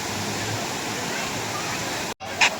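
A steady, continuous roar of rushing water from Chaprayi waterfall in Araku Valley fills the clip, broken by a brief gap near the end.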